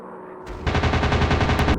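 Rapid machine gun fire from a WW2 fighter plane in the aerial dogfight game Warplanes: WW2 Dog Fight, a loud continuous burst starting after a short lull and running steadily for about a second.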